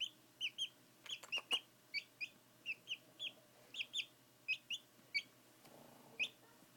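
Chirps from a baby chick, a string of short, sharp, high peeps in an irregular rhythm, close and fairly quiet, with a soft background murmur.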